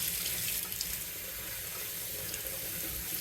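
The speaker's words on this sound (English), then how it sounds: "we still go ahead and rinse our spinach, our produce in general" Tap water runs steadily over spinach in a strainer at a kitchen sink, a continuous close rushing splash with slight shifts as the leaves are rinsed, no voices.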